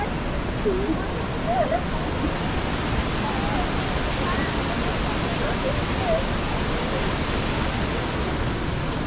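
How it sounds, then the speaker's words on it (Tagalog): Lower Falls at Johnston Canyon in Banff pour with a constant, even roar of falling water that holds steady throughout, while faint voices of people nearby murmur beneath it. "Ito yung lower falls na."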